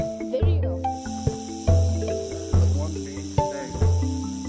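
A western diamondback rattlesnake rattles in a continuous dry, hissing buzz, heard beneath louder, repeated tonal sounds that start and stop in steps.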